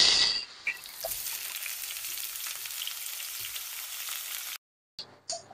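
Chicken pieces dropped into hot oil in a pan, giving a loud bright sizzle that hisses steadily and then cuts off abruptly, followed by a couple of small clinks.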